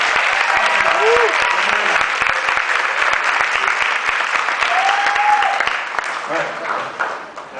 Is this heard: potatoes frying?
no